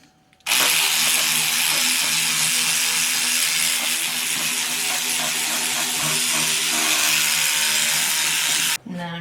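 A powered scrubber works Pink Stuff paste into a surface: a loud, continuous whirring buzz close by that switches on abruptly, runs steadily for several seconds and cuts off near the end.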